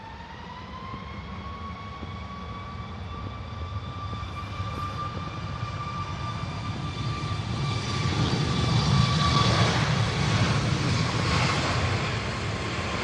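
A Ryanair airliner departs Manchester Airport, its engines giving a steady whining hum over a broad roar that builds noticeably louder partway through and stays strong to the end.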